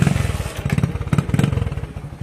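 A motorcycle engine runs close by in a rough, pulsing idle and rev, its throttle rising and falling in uneven bursts with some clatter, loud and alone without talk.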